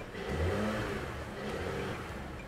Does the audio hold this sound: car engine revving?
yes